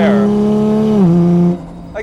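A Nissan Skyline GT-R with an automatic transmission accelerates hard at full throttle, its loud, steady engine note climbing and then dropping sharply at a quick gearshift before the sound cuts away, with a voice talking over it.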